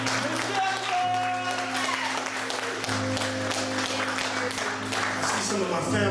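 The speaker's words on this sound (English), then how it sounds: "Give her a round of applause, please." An audience applauds at the opening of a live show, with sustained clapping under steady background music and a voice speaking over it.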